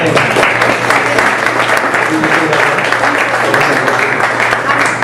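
At a Midtown Innovates gathering, an audience claps steadily and loudly as a speaker is welcomed, the applause continuous for several seconds with voices mixed in.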